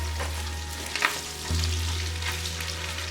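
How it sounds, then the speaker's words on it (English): Turkey sausage fries in a pan, a dense, even sizzle heard up close with a brief scrape of a utensil midway and a low hum underneath, no talking. "Right now I'm cooking up some turkey sausage."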